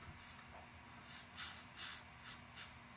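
Luminess spray foundation misted from an airbrush during a makeup application, five short airy hisses in a row, each lasting a fraction of a second, fairly close and clear over a quiet room.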